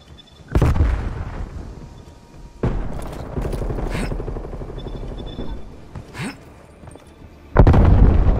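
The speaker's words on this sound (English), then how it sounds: "Enemy cruise missile launch detected." Heavy explosions from a cruise missile strike in Call of Duty Black Ops Cold War, several loud booming blasts with rumbling debris between them, close and powerful, the last one hitting hardest.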